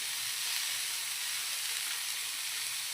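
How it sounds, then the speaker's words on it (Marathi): Tomato, garlic, green chillies, coriander and cumin frying in a pan for a dubuk vada curry masala, giving off a steady, soft hiss of sizzling with no voices. "आता हे चांगलं भाजून घेऊया"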